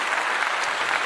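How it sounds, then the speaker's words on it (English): A brief burst of applause, a dense even patter of clapping for about a second with no voices. "This is a clap to all of you."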